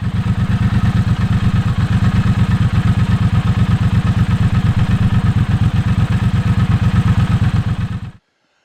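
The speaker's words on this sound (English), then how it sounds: "The Speedmaster has the parallel twin 1200cc engine" A Speedmaster motorcycle's 1200cc parallel-twin engine runs with a rapid, even thumping beat for about eight seconds, loud and close with no talk, then cuts off abruptly.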